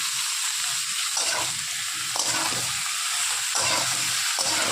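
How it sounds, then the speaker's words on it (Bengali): Pumpkin leaf stalks with salt frying in a pan, a steady close broadband sizzle with brief stirring scrapes and no voices. "দিয়ে এখন ভেজে নেবো"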